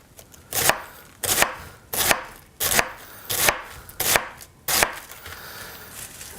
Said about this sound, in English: slightly thinner slices because I want that texture to be very pleasant.